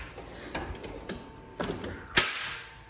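Drawer of a Snap-on Epiq series tool chest sliding open: a run of light mechanical clicks and rattles ending in a sharp metallic clack, close and moderately loud, with no talking.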